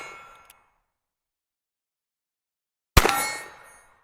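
Bullets from a Cimarron MP523 revolver in .44 WCF striking steel targets: two sharp metallic clangs, a ringing one fading at the start and a louder strike near the end that rings out with a decaying tone, silence between.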